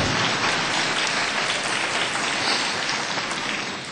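A large political conference crowd breaks into loud, dense applause at a lunch session, continuing strongly before easing slightly at the end.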